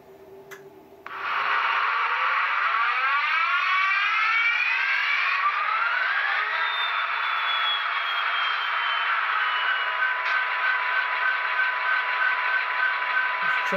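An Athearn SD75M HO-scale model diesel locomotive with a DCC Tsunami sound decoder starts up after a second of quiet, its engine sound rising and climbing in pitch, then settling into a loud, steady drone that runs to the end.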